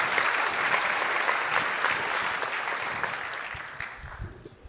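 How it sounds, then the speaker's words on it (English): An audience at an AI talk gives a sustained round of applause, dense and even at first, then gradually thinning and fading toward the end. "So first of all, everyone, can we give a round of applause for Damien?"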